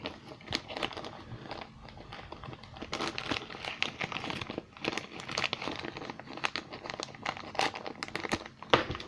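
Crinkling plastic bag handling as a tube is tossed back inside, with a steady stream of crackles and rustles, some sharper crunches, close and fairly quiet.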